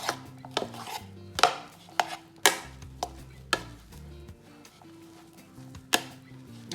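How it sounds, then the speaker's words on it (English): Mayonnaise is stirred into a yam salad in a bowl, with a utensil scraping and knocking against the bowl in a series of sharp, irregular clinks and taps over soft mixing sounds. "And I'm going to mix in my mayonnaise into it."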